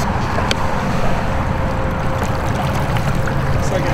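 A Torqeedo electric motor drives a fishing boat at speed on a lake, with steady, loud broadband rushing of water and wind across the whole stretch and no clear breaks.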